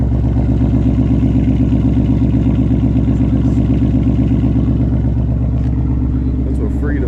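A 2021 Mustang GT V8 engine starts and idles loudly with a steady, throbbing burble and a deep rumbling exhaust, close by and continuous throughout.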